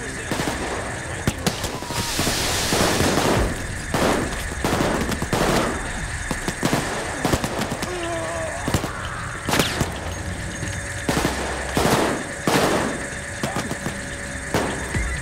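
Rapid bursts of automatic gunfire from a Payday 2 heist shootout, loud and repeated, with game effects and a constant background hum; players talk over the action.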